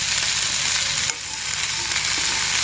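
Boiled red chickpeas frying in a pan with tempering spices and ginger pieces, a loud, continuous sizzle with the scrape of stirring and a brief dip partway through.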